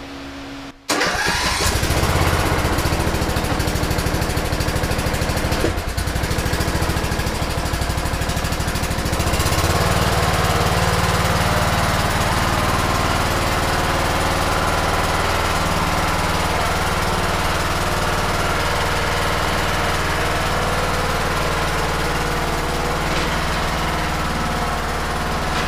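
The engine of a 2008 TroyBilt Pony riding lawn mower, repaired for a bent push rod, cranks briefly and fires up, then runs loudly and steadily close by for the rest of the clip.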